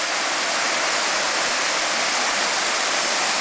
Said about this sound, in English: there's a waterfall into a nice 4 to 5, maybe 6 feet deep pool